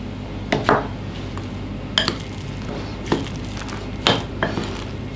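Spoon clinking and scraping in a bowl while a batter with cornstarch is stirred, several separate clinks spread across a few seconds over a faint steady background, no talk.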